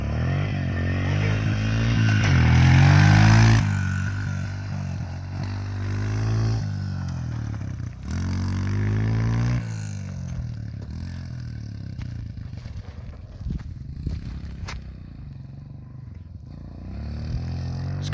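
A Honda CRF125F dirt bike engine runs nearby, a low throbbing idle with a couple of rising revs early on, then settling into a steadier, quieter putter with some clattering.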